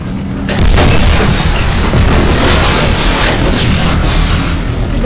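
Tank cannon fire in a World War video game booms out as a loud, sustained blast with a rolling rumble that fills the whole stretch, heavy and close, without talk.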